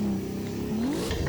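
A drift car in the Formula Sim Drift game makes a handbrake entry at Okayama, its engine droning steadily and then rising in pitch as it revs, loud and continuous, with no talk.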